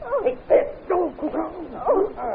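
A dog barks and yips in an old 1935 radio murder drama, a string of sharp, close barks and whining yelps in quick succession, loud and unaccompanied.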